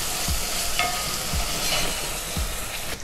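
Arak sizzles and evaporates in a hot pan while cooking Middle Eastern dal, a loud, steady close-up hiss with a few soft stirring knocks and no talk.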